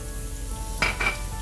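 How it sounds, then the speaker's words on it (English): Sliced onions fry in a pan for a dry red chilli chicken ghee roast; a steady low sizzle runs throughout, with a brief louder hiss swelling twice near the end, no voices present. "Now to that I'm adding the sliced onions. We're going to cook this down nicely."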